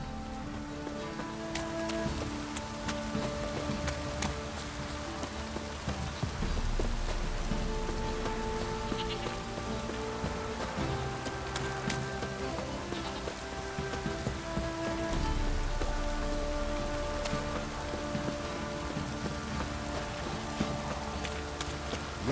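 Steady rain falls in the open world of the video game The Witcher 3, a dense, continuous patter on surfaces with occasional drips, accompanied by faint horse hooves and soft background music.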